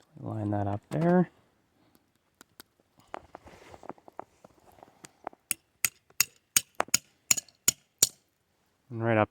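A hammer drives a metal maple sap tap into a tree trunk outdoors: a run of sharp, evenly spaced knocks that grow louder and tighter, between bursts of a voice at start and end.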